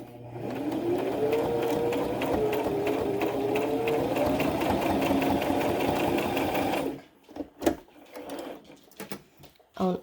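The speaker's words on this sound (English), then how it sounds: "We're going to stitch each end shut first." A sewing machine stitches across the ends of a pleated fabric face mask in one steady, rapid, close run of about seven seconds. It stops abruptly and leaves a few clicks and handling knocks, with a faint voice in the background.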